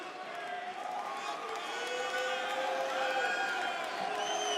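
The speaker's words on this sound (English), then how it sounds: "the crowd are egging him on" A crowd at the German Darts Championship cheers and chants for Krzysztof Ratajski in his match against Dragutin Harvat. Sustained, swelling chanting voices fill the hall at a steady loud level.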